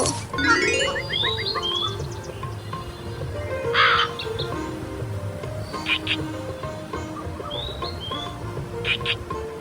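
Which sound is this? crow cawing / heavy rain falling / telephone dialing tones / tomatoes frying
crow cawing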